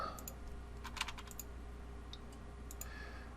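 Close, quiet computer keyboard typing with a few brisk key clicks and repeated presses of a single key, over a low steady room hum.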